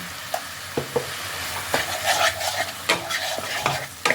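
Stuffed potatoes with spices for Kashmiri aloo dum being stirred and fried in a pan: a soft sizzle with sporadic scraping and clinking strokes, close up and with no talk.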